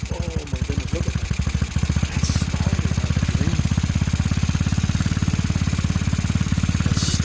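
A Tao GK110 go-kart engine with a newly replaced carburetor catches and runs, settling into a loud, rapid, even chugging idle close by with metallic clatter on top.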